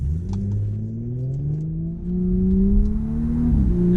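A 2018 Audi S5 Sportback engine revs and accelerates steadily, its hum rising in pitch, close and loud with no talking.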